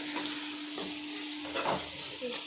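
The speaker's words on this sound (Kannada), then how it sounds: "ನೆಕ್ಸ್ಟು ಕೊತ್ತಂಬರಿ ಸೊಪ್ಪು ಅದನ್ನು ಫ್ರೈ ಮಾಡಿ" Fresh coriander leaves fry in a pan for a chutney, giving a quiet, steady sizzle with a few soft scrapes as they are stirred, and no voices.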